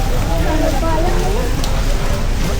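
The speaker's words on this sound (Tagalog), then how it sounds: "Saklas na ulan." Steady, dense hiss of heavy rain pouring down in Da Nang, Vietnam, constant and loud throughout, with faint voices murmuring underneath.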